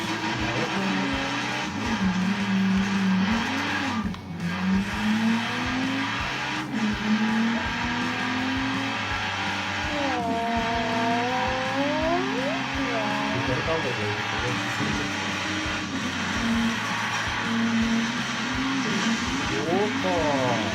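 A BMW race car in an Xbox racing game, its engine droning and revving steadily with pitch sweeps and occasional tire squeals, loud and continuous, with people talking over it.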